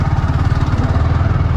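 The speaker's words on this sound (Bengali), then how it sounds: "V3 নিয়ে অ্যাকচুয়ালি অফ রাইড করাটা আসলেই খুব টাফ" A V3 sport motorcycle engine running while the bike is ridden off-road, with a loud, close, pulsing mid-range engine drone and some rattle, and no talk over it.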